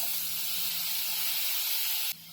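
Tomatoes hit a hot pan of spices and kasuri methi for a dal and bottle gourd curry, making a loud, steady, close hiss that drops off sharply near the end.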